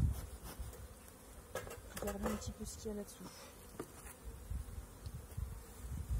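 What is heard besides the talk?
honeybees buzzing in hive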